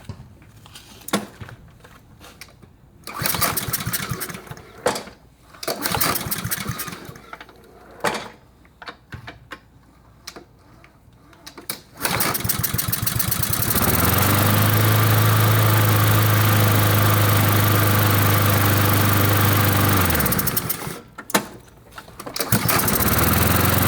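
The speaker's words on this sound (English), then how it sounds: "we'll give her a little test hole and see if she fires up" After a stretch of clattering and knocking, a repaired lawn mower engine fires up and runs loud and steady at close range for several seconds before cutting out, with a brief burst of noise after.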